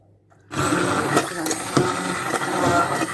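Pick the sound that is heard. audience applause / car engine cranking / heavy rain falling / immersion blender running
immersion blender running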